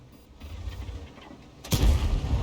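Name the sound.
tank cannon shot in the video game World of Tanks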